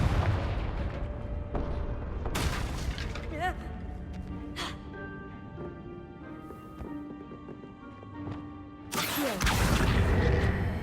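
Fiery Confringo blasting-curse explosions from Hogwarts Legacy, with sharp broadband bursts at the start and near the end amid ongoing spell effects and a steady game background.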